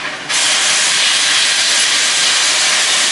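After a brief quieter moment, a steam locomotive's safety valve lifts into a loud, steady, close roaring hiss that holds unbroken.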